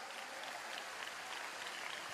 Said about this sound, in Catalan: Un aplaudiment ben fort pel Martí, per la Clàudia, per tots vosaltres.